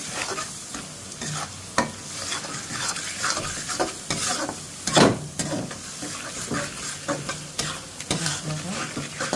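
Ground spices, cumin powder and tomato sauce being stir-fried together in a pan, a low steady sizzle broken by frequent scraping and clacking stirring strokes, with faint background voices now and then.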